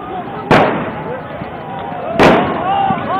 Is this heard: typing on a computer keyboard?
no